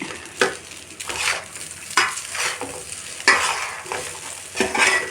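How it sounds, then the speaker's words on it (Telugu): Fried rice with masala being stirred in a pan, with repeated scraping, clattering strokes over a steady sizzle, close and fairly loud. "ఒకసారి అలా తిప్పుకోవాలి. తిప్పుకుంటే రైస్ అంతటికి ఆ మసాలా అన్నది"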